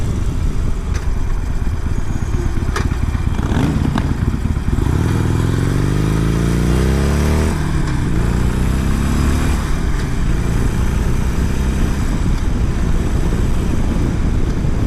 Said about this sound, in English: That was another Sportster revving it up.